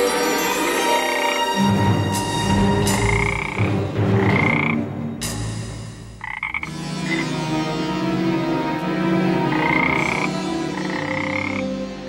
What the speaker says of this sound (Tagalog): Kaya nga lang, isa na siyang palaka.